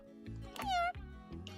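A single clear cat meow from a dating sim video game, close and bright, with soft rhythmic background music around it.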